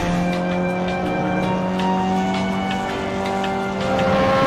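A modern Formula 1 car lapping Laguna Seca, its engine a steady, loud, continuous whine with sustained tonal harmonics and no talk.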